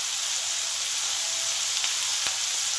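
Chopped onions frying in oil in a pan, a steady soft sizzle with a faint hiss throughout, alone and fairly quiet, with one brief sharper crackle near the end.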